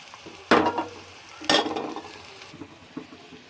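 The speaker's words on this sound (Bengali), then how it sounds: "এখন দিয়ে দিচ্ছি আদা কুচি ও রসুন কুচি।" Chopped ginger and garlic drop into hot oil in a wok with onion and bay leaves, making two sharp bursts of loud sizzle about a second apart that settle into a softer frying hiss.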